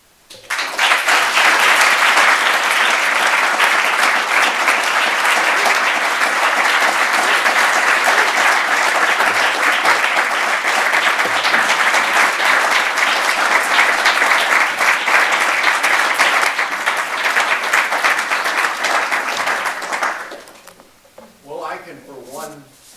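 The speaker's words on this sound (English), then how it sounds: "I think the applause signifies that" Sustained, loud applause from a large lecture audience after a talk on Christian ethics, a dense, even roar of clapping for about twenty seconds that then fades out, followed by a few quiet sounds.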